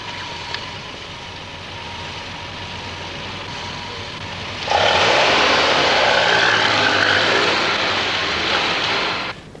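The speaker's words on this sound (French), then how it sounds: "alors toi c'est carrément le chalumeau, hein" A blowtorch cutting into a safe starts midway as a loud, steady broadband roar and hiss that carries on unbroken to the end, following a quieter stretch of low background noise.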